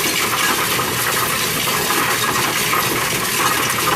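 Pocket change coins pour steadily into a counting machine for a voucher, a dense continuous metallic clatter and jingle that stays loud and even throughout with no talking.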